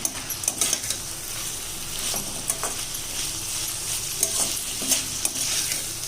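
Carrots, beans and tomato sautéing in a pan, a steady sizzle running throughout with frequent close scrapes and clicks of a spoon stirring the vegetables.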